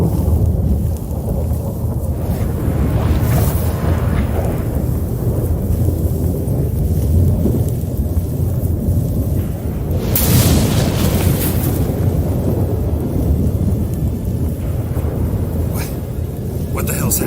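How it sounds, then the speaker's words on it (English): A storm in The Witcher 3 video game roars with constant heavy wind and deep rumbling thunder, swelling into louder bursts, while characters speak over it. "That a storm?"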